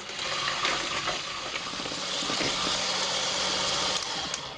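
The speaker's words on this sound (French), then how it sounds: "j'ai le sucre et les œufs que je vais battre" Sugar and eggs beaten together for a chocolate cake batter, a steady, dense whirring rush of mixing that runs continuously and fairly loud throughout, with no talk.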